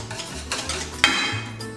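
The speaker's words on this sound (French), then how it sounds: "J'incorpore donc le beurre fondu dans la pâte à crêpes." Melted browned butter is stirred into crêpe batter, making a close, wet swishing with a sharp utensil clink against the bowl partway through.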